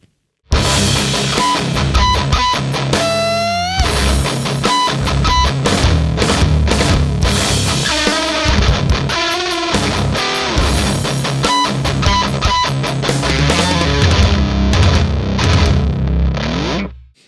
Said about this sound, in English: that's just a solid distortion tone